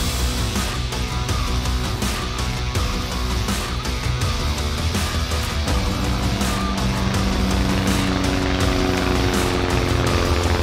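A floatplane takes off from a backcountry lake in Alaska, its propeller engine roaring loudly and continuously at close range, with the pitch shifting slightly as it builds speed.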